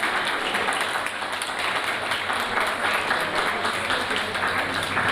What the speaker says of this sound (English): Round of applause for Dan.